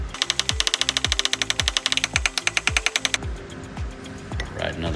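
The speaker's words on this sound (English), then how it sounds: "Big pull with that dead on dent slide hammer." A dead-on dent slide hammer pulls a glued tab on an oversized hail dent in a car's panel, up close. Rapid mechanical clatter carries sharp, evenly spaced knocks for about three seconds, then gives way to a softer, rougher scraping.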